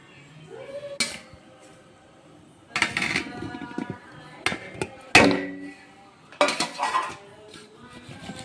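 Paneer cubes shaken and tossed with masala in a bowl, giving bursts of clattering, clinking knocks against the dish in several separate shakes with quiet gaps between, close and fairly loud.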